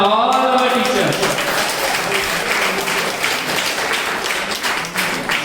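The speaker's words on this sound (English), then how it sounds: "the big clap for all our teachers" Loud, sustained applause from a crowd at a yoga teachers' certification ceremony for Ashtanga Vinyasa teachers at a yoga university, dense clapping that holds steady for several seconds with a brief tonal sound at the start.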